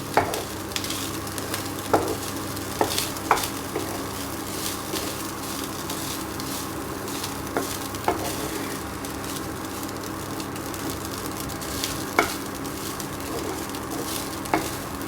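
Pepper fried rice sizzles in a pan while a spoon stirs it, with a steady fry and scattered clinks and scrapes over about fifteen seconds, no speech.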